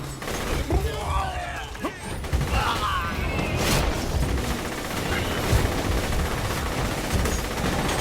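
Gunfire from a weapon in the video game Borderlands: The Handsome Collection, a dense stream of rapid shots and crackling impacts layered over busy game noise, steady and loud throughout.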